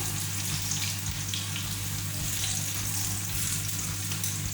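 Steady, faint sizzling of garlic frying in hot oil, continuous and even, with a low hum underneath and no talking.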